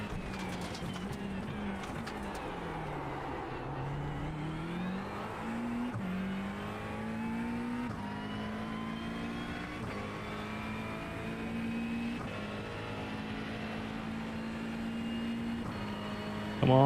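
A McLaren GT3 race car engine in a racing video game at Spa drones loudly and continuously, its pitch climbing through repeated gear shifts with short drops between them.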